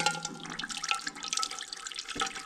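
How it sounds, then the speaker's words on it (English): Hot water and dish soap solution draining out of a scrub tub in a workshop, a steady splashing gush of liquid running continuously at close range. "Gonna drain a little bit of that fluid out."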